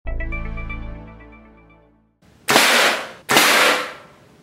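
A broadhead arrow strikes a steel plate target twice in sharp, loud successive impacts, with a fading ringing tone before them.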